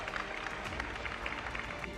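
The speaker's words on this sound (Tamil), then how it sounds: "தாராளமாக கைத்தட்டலாம்." Audience clapping at a televised election-tour public event at a university in Thanjavur, a brief burst of steady scattered applause from a crowd, fairly dense and mid-distance.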